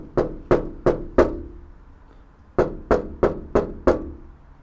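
Knuckle knocks on an untreated, bare-metal Toyota FJ40 door, four sharp hollow raps in a quick row, a pause, then five more, each ringing briefly with a tinny resonance.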